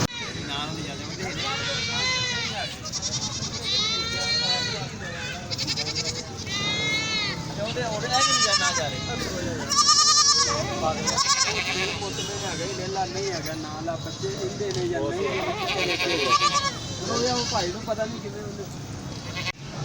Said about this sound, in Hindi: बकरी के छोटे छोटे बच्चे भी यहाँ पे फ़रोख्त के लिए आए हैं